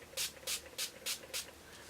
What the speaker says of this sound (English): So I'm just going to go back in with my setting spray.